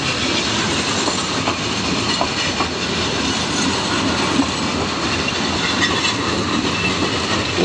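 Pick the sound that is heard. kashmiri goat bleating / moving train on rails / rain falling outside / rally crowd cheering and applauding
moving train on rails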